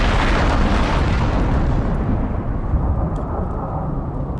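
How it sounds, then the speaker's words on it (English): A thunderstorm in the video game Icarus roars as a loud, dense rumble of thunder and rain that slowly fades, continuous and unbroken, with no voices. "God, this storm is so loud."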